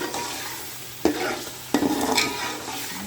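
One kilo of washed mutton frying with spices in a pot, a loud bright sizzle broken by two sharp bursts as the meat is stirred, then crackling on steadily.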